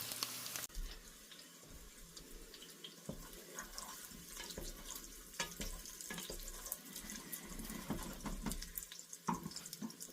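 Beef broth poured into a hot pot for meatball soup, a continuous close liquid splashing and gurgling with faint sizzle underneath, steady throughout.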